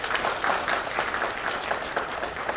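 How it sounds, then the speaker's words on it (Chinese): A wedding audience breaks into dense, steady applause, many hands clapping together at close range for a few seconds. "掌声有请。"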